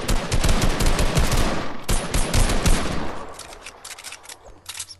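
Rapid automatic rifle gunfire in a multiplayer shooter video game, loud dense bursts of overlapping shots for about three seconds, then sparser scattered shots farther off, with no talk.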